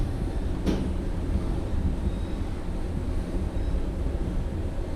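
Steady low rumble and hum of a moving hotel elevator at Hyatt Place LAX, even and continuous for the whole ride, with one brief tick near the start and no talking.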